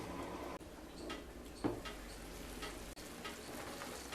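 Egg korma curry simmering in a pan, a faint continuous bubbling sizzle with a few small clicks and one brief louder tap, quiet and close, no voices.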